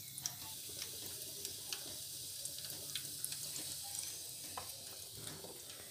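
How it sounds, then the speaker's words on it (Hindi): Cardamom tempering in hot ghee, a faint soft sizzle with scattered small pops and light stirring clicks running throughout at low volume, no voices. "घी गर्म हो चुका है, इलायची हमने डाल दी है इसमें।"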